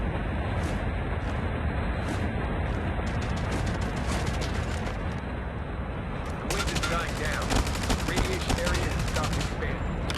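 Rapid gunfire crackles in the online shooter DMZ, with bursts of automatic shots that grow dense toward the end over continuous game ambience.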